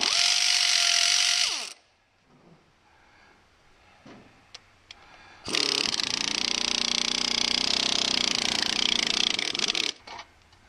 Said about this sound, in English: let's pull a flywheel. Get my flywheel wrench.